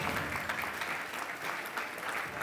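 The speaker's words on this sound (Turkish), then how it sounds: "Alkışlarla" Applause from the audience at the Top Model Of Universe 2022 grand final award ceremony, steady continuous clapping filling the hall with a slight rhythmic pulse, heard without speech.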